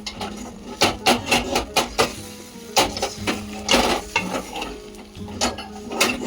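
A two-egg omelette cooks in a non-stick pan, faint sizzling under a run of rhythmic scraping and tapping strokes from a utensil against the pan, loud and close.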